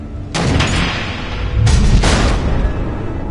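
Missiles exploding in Batman: The Telltale Series, two loud deep booming blasts in succession, each with a rumbling tail, no voices.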